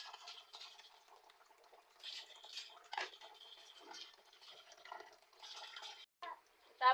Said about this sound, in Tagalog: I-drain ko na muna dito.